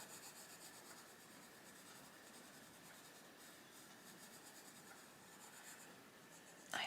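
A hard colouring pencil lays a light layer of elm green on paper, giving a steady, soft scratching and rubbing that continues evenly without pause and stays close and fairly quiet.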